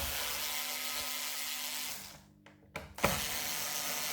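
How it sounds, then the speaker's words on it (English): A small electric screwdriver removing Torx screws from a car dashboard gives a steady high whirring hum that stops, followed by a few short clicks and a sharper ratcheting burst. "if you've got one of these little electric screwdrivers, they are brilliant"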